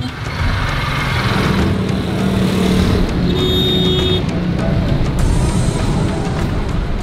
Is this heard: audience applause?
no